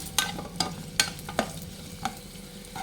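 Whole eggplants frying in oil in a pan for a stuffed masala curry, with a low steady sizzle and close spoon scrapes and clinks landing roughly every half second.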